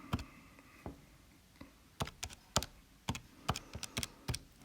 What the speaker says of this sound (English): we type that in to the calculator